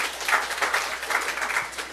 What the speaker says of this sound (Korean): 그렇게 하실 하나님께 박수 올려드려요.